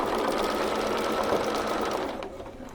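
A Bernina sewing machine fitted with a walking foot, set to stitch length 3, runs a steady, fast, close-up whirring stitch through a holiday bench pillow cover, easing slightly near the end with no voices.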